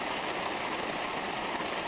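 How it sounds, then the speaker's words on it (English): Williams Creek, a small mountain stream on a Colorado trip, rushing steadily as a continuous broadband wash of water with no voices. "We run up on this little Williams Creek"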